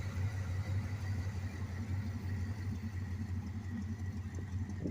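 A beater V8 engine in a classic car with a 4-speed runs roughly on low fuel, giving a quiet, uneven low rumble that pulses steadily throughout without any talk.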